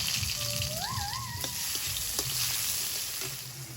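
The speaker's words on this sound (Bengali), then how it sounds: "তেল দিয়ে দেব ফোড়ন" Tempering spices crackle and sizzle in hot oil in a pan just after fish has been fried, a dense, steady frying hiss with scattered pops and a faint bird chirp in the background.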